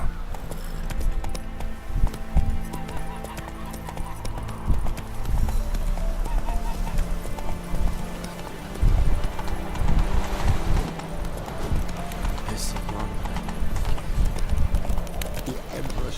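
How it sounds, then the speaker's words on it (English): Roach, the horse in The Witcher 3 video game, clip-clops along with steady rhythmic hoofbeats, a brief whinny rising near the end, over game music and ambience while someone talks now and then. "Roach, where you at? Magical horse appearing out of nowhere."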